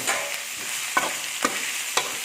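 Shrimp frying in a pan with dried chilies for a Thai stir-fry, a steady broadband sizzle broken by a few sharp scraping stirs, close and moderately loud with no voices.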